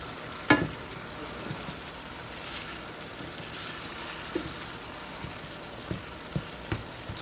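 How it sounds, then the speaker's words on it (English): Ground beef sizzles in a pan in a soft, continuous crackling hiss, with a few sharper pops and light taps scattered throughout. "while this ground beef is continuing to cook"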